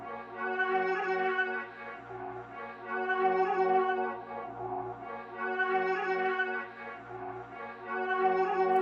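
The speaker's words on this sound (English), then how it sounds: "I have this cool string sample." Sustained orchestral strings swelling and easing in slow waves, lush layered chords with a dark low drone underneath.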